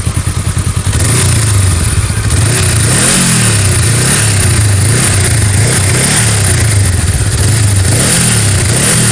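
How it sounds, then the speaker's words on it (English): A 2017 Honda Rebel 500 ABS motorcycle idles loud and close, its exhaust revved repeatedly in rising and falling bursts over a steady low rumble, with no talk. "just wanted to crank the exhaust a little bit here for you"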